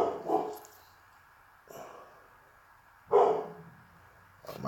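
A dog barks in separate, widely spaced single woofs, three or four in all, moderately loud and fairly close in a quiet indoor space.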